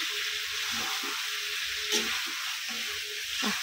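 Potatoes frying in a pan of chicken curry, stirred steadily, give a continuous close sizzle with soft scraping stir sounds scattered through it.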